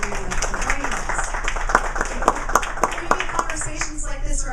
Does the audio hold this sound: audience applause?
yes